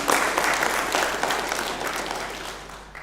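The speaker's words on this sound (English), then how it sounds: "let's give ourselves a round of applause" Applause from a conference audience fills the room, a dense steady wash of many hands clapping that fades slightly toward the end.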